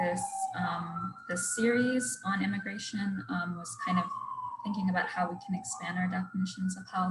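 Emergency vehicle siren wailing outside, a long rising and falling tone running steadily throughout beneath a continuous speaking voice.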